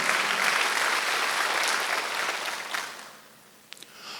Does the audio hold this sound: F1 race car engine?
no